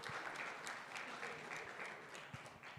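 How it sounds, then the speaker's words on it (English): Applause from a conference audience at a future-of-work dialogue, fairly faint and steady, with scattered claps standing out over the continuous patter. "Let's also give them a round of applause."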